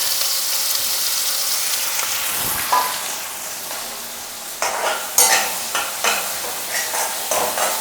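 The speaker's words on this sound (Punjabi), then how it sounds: "ਹੁਣ ਇੱਕ ਬਰੀਕ ਪਿਆਜ਼ ਹੈ ਜਿਹੜਾ ਉਹਨੂੰ ਚੋਪ ਕੀਤਾ ਸੀ ਇਹਨੂੰ ਆਪਾਂ ਭੁੰਨ ਲਵਾਂਗੇ" Finely chopped onions fry in a pan over a cumin tempering for a bathua and potato dish. A steady sizzle runs throughout, and close, scraping stirring strokes come in bursts during the second half.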